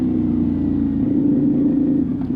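Road traffic heard from a moving vehicle on a coastal ride: a steady, loud engine and tire rumble drones without a break, with no voices over it.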